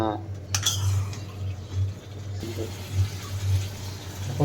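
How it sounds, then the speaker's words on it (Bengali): Chicken curry being stirred in a pot: a few metal clinks and scrapes of a spoon against cookware over a low steady hum, close by, with a faint voice briefly in the background. "তখন এটা ভালো করে নেড়ে নিব। ভালো করে মিশিয়ে নিব।"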